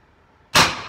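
A single sharp, loud crack from an FSV Ghost air rifle fitted with a VKS bolt kit, firing with heavy power; it bursts abruptly after a quiet lead-in and rings off briefly, with no talking.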